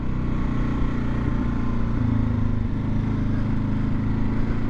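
A 2023 Kawasaki KLR 650 engine drones steadily at high revs in fifth gear around 60 to 65 mph, a dense, strained hum with wind roar and no pauses.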